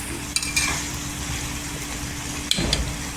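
Shredded cabbage being stirred into a spiced masala in a pan for a patta kobi curry: a few short scraping stirs over a steady low sizzle, with a sharper clatter near the end.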